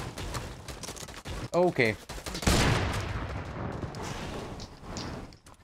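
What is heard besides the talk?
gunfire in the Fortnite video game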